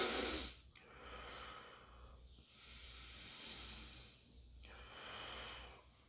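A person demonstrates apical breathing, filling only the upper chest, with close, audible breaths: a hissing inhale and exhale repeated about three times in a slow rhythm, with no speech.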